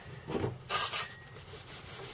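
Neat's foot oil and beeswax being rubbed by hand onto a leather dog collar, soft brief scuffing strokes, quiet and close.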